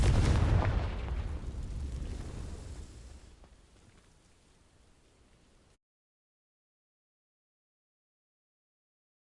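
A Confringo fire spell in Hogwarts Legacy sets dry vines alight: a loud burst of flame that fades into a crackling, rumbling burn over several seconds, then silence.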